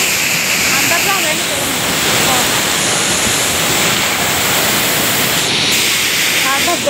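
Thoseghar waterfall roars loudly and continuously, a thick wall of rushing water close by, with faint voices buried beneath the steady torrent.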